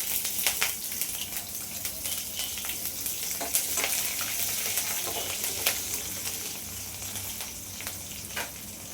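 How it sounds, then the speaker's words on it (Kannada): Curry leaves and green chillies crackle and sizzle steadily in hot oil as a tempering for North Karnataka-style jowar roti, a dense continuous frying hiss with small pops throughout and no talking. "ಕರಿಬೇವಿನ ಸೊಪ್ಪು ಹಾಕ್ತೀನಿ ನೋಡಿ. ಕರಿಬೇವಿನ ಸೊಪ್ಪು ಹಾಕ್ತೀನಿ. ಹಸಿಮೆಣ್ಸಿನ್ಕಾಯಿ ಹಾಕ್ತೀನಿ."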